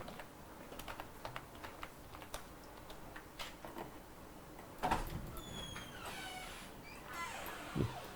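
Quiet, scattered key clicks from a computer keyboard as marks are entered into a Microsoft Excel spreadsheet, with a slightly louder clatter of keystrokes near the end.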